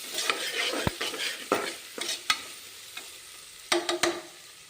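Ginger garlic paste frying in a pan for home-style tomato rice, a steady soft sizzle broken by several sharp scraping clinks of a spoon stirring against the pan, with no talking.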